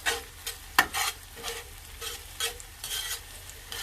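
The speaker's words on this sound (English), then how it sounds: "So let's add our garlic for the last minute or so, because we don't want to burn our garlic" Garlic sautéing with hominy and softened vegetables in a pan for a hominy casserole, bursts of sizzle and stirring scrapes rising and falling in quick, irregular strokes, close and clear.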